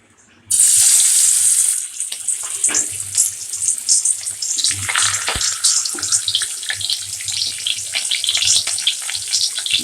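Marinated fish slipped into hot oil, bursting into a loud, close, rushing sizzle that settles into steady crackling and popping.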